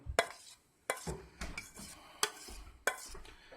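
Béchamel sauce is poured over moussaka in a baking dish, with scraping, clinking utensil and dish knocks at irregular intervals and a soft wet pouring sound between them, fairly quiet and without talk.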